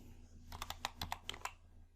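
Quiet computer keyboard typing during spreadsheet data entry, about eight distinct key clicks in an uneven burst lasting roughly a second, close and alone against a low steady hum.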